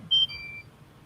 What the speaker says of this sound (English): and the controller keeps beeping